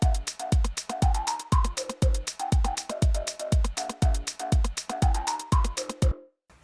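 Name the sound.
synth lead recreation of a song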